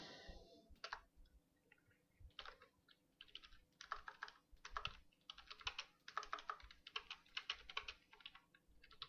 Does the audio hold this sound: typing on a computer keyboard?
yes